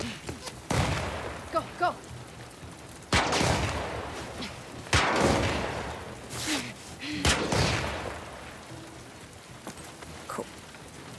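Gunfire in the video game The Last of Us Part 2, sharp bursts of shots spaced irregularly over a rainy ambient backdrop, with a person talking briefly in between.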